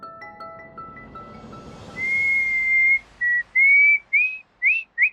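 A person whistles loudly and close up, first a long held note and then a string of short rising and falling chirps in quick succession, with a few faint tones lingering behind at the start.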